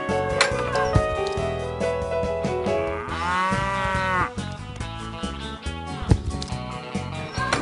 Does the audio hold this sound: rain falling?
no